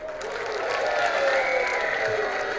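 A Lowrey touchscreen organ plays its built-in applause sound effect transposed into B flat, giving a steady, continuous wash of synthetic crowd clapping at even volume throughout.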